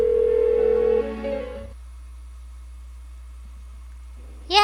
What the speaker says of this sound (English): Why won't she pick up the phone?